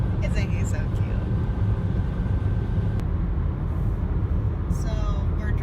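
A car on a road trip through Northern California, with a continuous low rumbling road and engine drone from inside the cabin, steady and close throughout.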